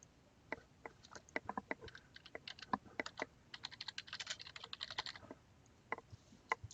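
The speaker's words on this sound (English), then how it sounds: "I type in Andean Journey and click on Submit." Quiet, close typing on a computer keyboard as a title is entered, irregular clusters of crisp keystrokes with short pauses and a faster burst near the middle, no talk.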